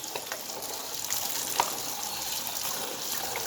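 Cold water pours over a plastic bottle during a chemistry experiment, a continuous moderate splashing rush with one brief sharper knock partway through and no speech.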